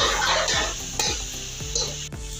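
Chicken fries and sizzles in a pan while a utensil stirs it, scraping and knocking against the metal every half second or so over a constant hiss, with no talking.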